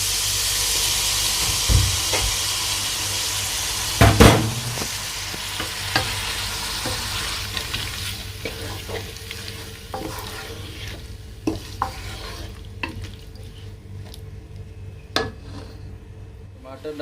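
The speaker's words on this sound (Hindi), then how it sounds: "अब मैं इसमें जो 1 टमाटर मैंने ग्राइंड किया हुआ था उसको मैं इसमें डालने वाला हूँ।" Ground tomato sizzles and steams as it is added to chicken in a hot pan for a restaurant-style chicken jalfrezi, with a loud hiss at the start that eases into a steady frying crackle broken by scraping stirs and utensil clacks.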